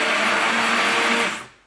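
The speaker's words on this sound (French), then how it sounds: "Je vais mixer jusqu'à ce qu'il y ait la trace" A loud hand blender whirs steadily at close range mixing almond milk soap, then winds down and stops.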